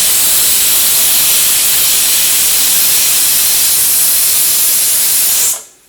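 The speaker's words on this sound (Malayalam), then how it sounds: "ഇപ്പോൾ കുക്കറിൻ്റെ ഉള്ളിൽ നിന്ന് ഒരു വിസിൽ വന്നിട്ടുണ്ട്." A pressure cooker cooking biryani rice vents steam in a loud, steady hiss that runs unbroken for about five and a half seconds, then cuts off abruptly into near silence.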